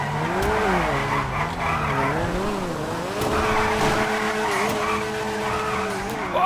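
Tires squeal steadily as a Rune Cheburek Lada drifts in GTA 5, a wavering screech over a revving engine and continuous game noise.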